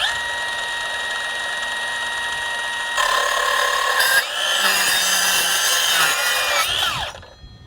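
Metabo HPT 18V MultiVolt 5-3/8 inch metal cutting circular saw in silent mode, a quiet whine that jumps to a louder, harsher cutting tone midway, then winds down at the end, close up.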